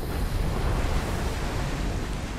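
Steady broadband wash of ocean surf at sea, rolling continuously and fairly loud with no voices, as characters fall into the water during a Super Smash Bros Ultimate cutscene.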